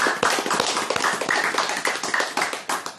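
Audience members clap in a quick, uneven patter of individual hand claps, close and fairly loud, continuing for a few seconds without voices.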